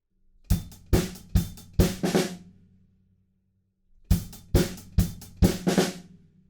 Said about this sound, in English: Right before we go to the pre-chorus, we've got this tiny little fill.